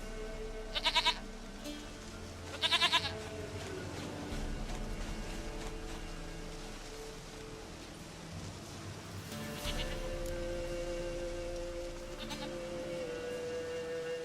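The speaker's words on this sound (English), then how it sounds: "Goat of mine, dearest, sweetest goat." A goat in The Witcher 3 game gives two sharp, nasal bleats early on and a fainter one later, set against a low, continuous ambient background.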